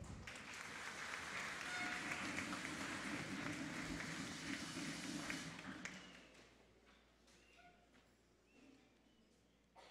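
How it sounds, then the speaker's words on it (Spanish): Applause from an audience at a regional school oratory competition's medal ceremony, a thick, steady burst of clapping for about six seconds that then fades out to quieter room noise. "Fuerte el aplauso."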